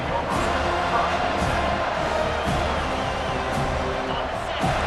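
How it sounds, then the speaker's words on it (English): Stadium crowd noise from EA Sports College Football 25 rises as a dense, steady roar of a cheering crowd under a commentator's voice. "This crowd bringing the energy and noise early"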